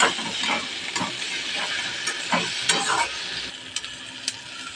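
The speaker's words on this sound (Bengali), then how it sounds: "লঙ্কা গুঁড়ো, হলুদ গুঁড়ো, নুন, ধনে গুঁড়ো, জিরে গুঁড়ো, টমেটো সব কিছু একসাথে দিয়ে ভালো করে এটাকে কষিয়ে নিতে হবে মশলাগুলোকে।" Chilli powder, turmeric, salt, coriander, cumin and tomato sautéed together for fish curry: a soft sizzle and hiss with rhythmic scraping stirs of a spoon in the pan, close by, with no talking.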